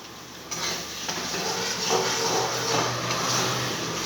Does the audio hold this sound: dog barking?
no